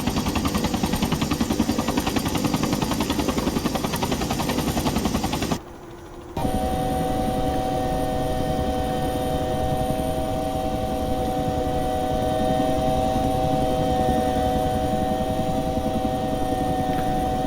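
A Bell 212 helicopter in the Prepar3D flight simulator runs with a loud, steady rotor and turbine drone, broken by a brief drop-out before resuming with a whining engine tone.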